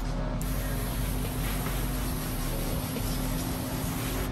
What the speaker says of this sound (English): we're just gonna spray it down, rinse it, get it wet.